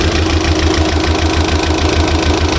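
A Mitsubishi Galant engine idles steadily at close range with a rapid, regular ticking and knocking from noisy valve lifters pulsing throughout.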